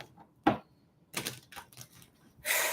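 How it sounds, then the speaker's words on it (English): Tarot cards being shuffled during a live psychic reading: rapid papery riffling bursts come in separate clusters, fairly soft and close, with no one speaking. "I want to do one more shuffle because I hated that shuffle."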